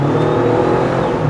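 A 2018/2019 Jeep Wrangler with a turbocharged four-cylinder accelerates hard on a test drive, its engine pulling loud and steady from inside the vehicle.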